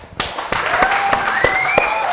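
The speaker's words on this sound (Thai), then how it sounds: "เอาปรบมือ" Brief burst of applause from a small group at a Thai trading talk, a few sharp claps standing out over a dense patter that starts abruptly and holds steady throughout.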